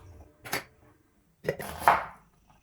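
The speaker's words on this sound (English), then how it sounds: "I start with chopping my vegetables and putting them in a blender" Vegetables for lamb kebabs, including onions, garlic and peppers, are chopped with a knife on a board: three separate, crisp thuds spaced about a second apart, close and fairly quiet.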